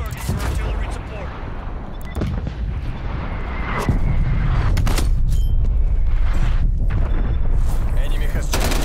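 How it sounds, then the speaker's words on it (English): Artillery strike in Call of Duty Black Ops Cold War: a series of loud booming impacts and rumbling blasts over ongoing gunfire and radio chatter, growing heavier partway through. "Painting targets for artillery support."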